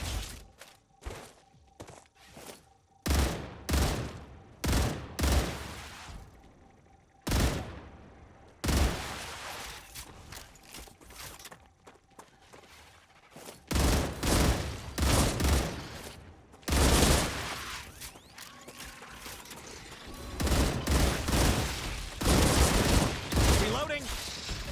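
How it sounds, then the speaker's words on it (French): Gunfire in the video game StarRupture: loud, repeated bursts of rapid shots and heavy thuds, broken by brief pauses, with occasional voices mixed in. "Ah, le bruit des tirs est horrible."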